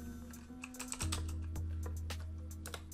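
Fingers tapping keys on a computer keyboard, a short irregular run of light clicks up close over a steady low hum.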